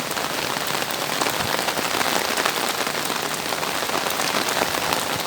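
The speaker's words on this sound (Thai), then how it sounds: "ฝนตกก็ไม่หยุดอ่ะ" Steady rain pouring down, a dense hiss of drops hitting surfaces, constant and close with no voices.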